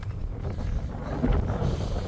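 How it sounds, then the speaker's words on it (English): Wind at a coastal campsite on Scotland's east coast, with a tent pitched on a car roof, buffeting the microphone in a steady low rumble with gusty swells. "if that wind picks up any more during the night"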